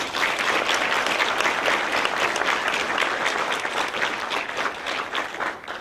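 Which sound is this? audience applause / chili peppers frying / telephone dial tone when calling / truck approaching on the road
audience applause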